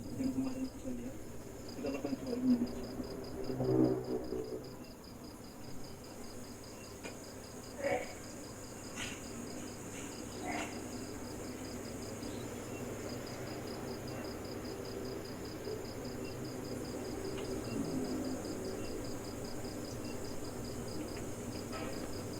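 Crickets chirp steadily through the night in a continuous high, shimmering trill that runs the whole length, with a low background hum and a few faint scattered knocks underneath.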